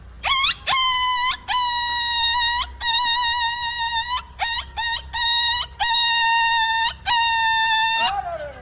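A voice imitates a dog yelping in pain: a run of about eight sharp, high cries in quick succession, loud and close, ending on a falling whine.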